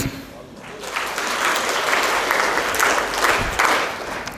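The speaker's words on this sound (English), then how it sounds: "Please clap 3 times." Students at a college orientation and toppers felicitation applauding, a broad wash of clapping that builds after a quieter start and holds steady, with some voices mixed in.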